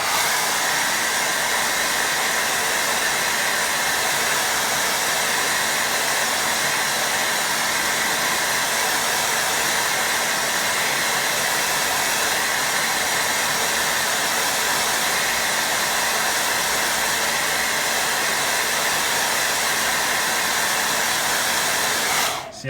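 Hair dryer running steadily on a watercolour painting for over twenty seconds, a loud, even broadband whoosh and hiss with no talking, cutting off abruptly at the end.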